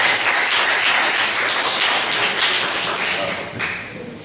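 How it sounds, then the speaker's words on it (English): Audience at a community forum applauds steadily, a thick wash of clapping hands that holds at full strength and then begins to thin out near the end. "we're going to ask for another round of applause as our Power Coalition members on the stage."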